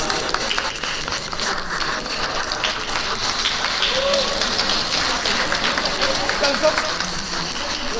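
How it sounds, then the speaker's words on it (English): Dense, continuous applause from a seminar audience sounds like a wash of heavy rain as a speaker walks up, steady and fairly loud throughout, with faint voices mixed in. "Let's give her a very big round of applause as she comes up."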